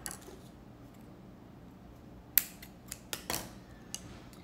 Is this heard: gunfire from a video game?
no